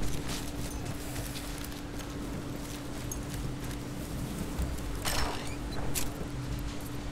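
Horse hooves in the video game Battlefield 1 clop at a steady walking pace over a constant low hum and ambient rumble, with a brief brighter rustle near the end.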